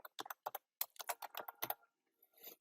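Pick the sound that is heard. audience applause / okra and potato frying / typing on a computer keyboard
typing on a computer keyboard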